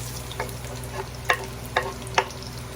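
Garlic frying in cooking oil mixed with a little margarine, a steady low sizzle with a few sharp spatula scrapes and taps against the pan at irregular intervals.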